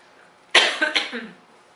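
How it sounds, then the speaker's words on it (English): A single short cough burst after a race, followed by a couple of smaller rough coughs, close by and fairly loud against a quiet background. "I always have a cough after races"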